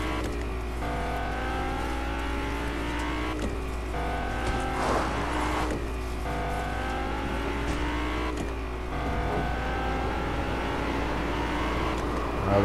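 Vehicle engine in the Fortnite video game, a steady droning motor with rising and falling revs as it drives, fairly loud throughout with no talk.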